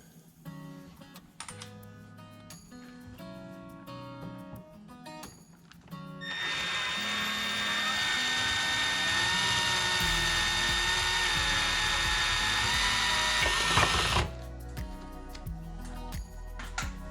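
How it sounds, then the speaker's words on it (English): Step bit cutting a 3/4 inch hole for a Hogworkz tour pack light, a loud, steady whining grind that runs for about eight seconds at close range, rising and then stopping abruptly, with quieter workshop clatter before and after. "So I don't have a 3/4 inch bit, so I'm going to use my step bit."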